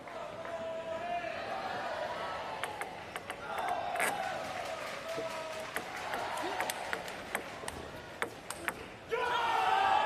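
Brazilian spectators cheer and shout at a para table tennis standing doubles match, a busy crowd roar with sharp ball pings and claps throughout, swelling louder at the end after the point is won.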